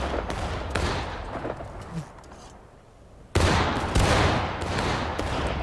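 Gunfire in War of Rights during the attack on the Burnside Bridge: dense crackling volleys of shots, some close and sharp, others distant, with a brief lull before a loud renewed burst.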